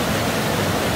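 A waterfall in Dalgung Valley at Baemsagol on Jirisan roars as a dense, loud, unbroken rush of falling water.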